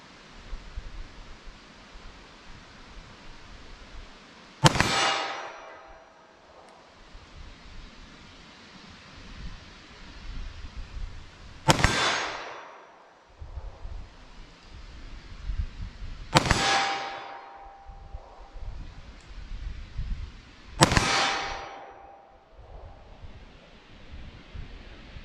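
Four sharp 9mm pistol shots with Winchester Silvertip ammunition crack out at an unhurried pace, several seconds apart, each ringing off in a short decaying echo over quiet outdoor air.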